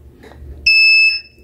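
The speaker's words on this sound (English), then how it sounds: "buzzer is the beeping one time." An Arduino alcohol detector with an MQ-3 sensor, triggered by hand sanitizer, gives one loud, steady, high-pitched buzzer beep lasting about half a second over a quiet background.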